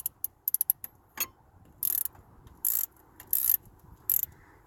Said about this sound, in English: Get your wrench, your 18mm wrench, and sit it here. And then just ratchet.